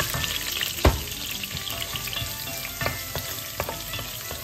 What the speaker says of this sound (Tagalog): Magigisa tayo ng ating bawang, sibuyas, kamatis.